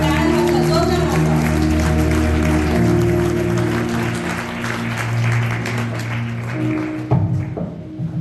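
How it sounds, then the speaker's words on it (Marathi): Applause from an audience at a Marathi Christian sermon gathering on Women's Day: dense, sustained clapping that holds steady for several seconds and then thins out, heard over a steady tonal hum with some voice. "टाळ्या वाजवा, जोरदार वाजवा."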